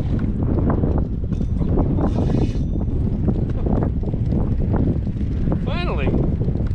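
Wind buffets the microphone on a kayak out on the water, a loud, constant rumbling roar, while someone talks over it.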